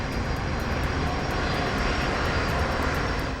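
Steady, dense engine and airflow roar inside an airliner cockpit on approach to Heathrow, loud and unbroken throughout with no talk.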